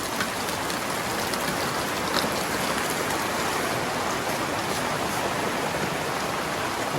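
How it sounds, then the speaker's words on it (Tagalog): Downpour drumming on a tarpaulin rigged over concrete letter work, an unbroken, loud wash of rain hiss held at even strength throughout, with no voices. "lakas ng ulan oh"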